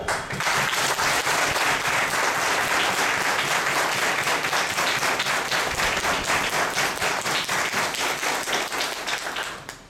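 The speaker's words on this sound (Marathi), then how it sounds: "स्वतःसाठी, स्वतःच्या निर्णयासाठी एक जोरदार टाळ्या द्या" A seminar audience in Satara breaks into loud, sustained applause, dense clapping filling the room for the full ten seconds before easing at the very end.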